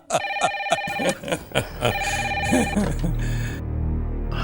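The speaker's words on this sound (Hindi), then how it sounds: "सुबह सुबह किसका फोन हो सकता है?" A telephone rings in repeated electronic bursts while people talk over it nearby.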